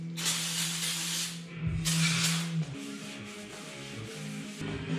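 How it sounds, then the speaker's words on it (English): Brake cleaner sprayed from a can onto the surface of a Dana 44 axle, two sharp hissing bursts close up, with a low background hum between them. "I do have the decency, however, to at least brake clean the surface mildly."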